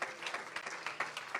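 A church congregation claps in a steady burst of applause, loud and sustained without a break.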